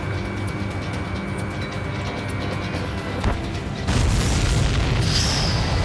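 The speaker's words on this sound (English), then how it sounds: "All of the missiles have been destroyed." Missiles explode in the Ace Combat 7 flight combat video game, a dense rumbling roar that swells into a louder, sustained blast wash toward the end, heard without talk.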